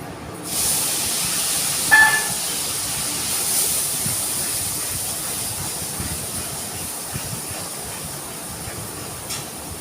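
Spice paste dropped into very hot oil for a taro stem and prawn curry, a loud steady hiss of sizzling that starts abruptly and carries on evenly throughout, no talk.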